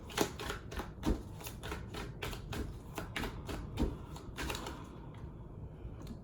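Rapid riffling and slapping of tarot cards being shuffled, a run of crisp bursts in a steady rhythm, close and fairly loud with no talking.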